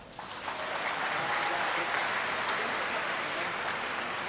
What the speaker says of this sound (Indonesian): Tepuk tangan dulu buat wanita.